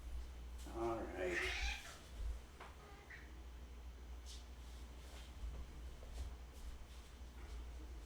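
A pet cat meows in a short burst near the start, close by in a home kitchen, then fades under a steady low hum and faint background noise.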